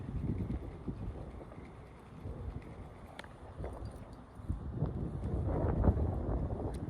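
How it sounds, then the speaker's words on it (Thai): Wind blows over a river while fishing for snakehead from a boat, buffeting the microphone with a steady, gusty low rumble that swells louder toward the end, with faint water and hull sounds beneath. "ลมพัดอยู่"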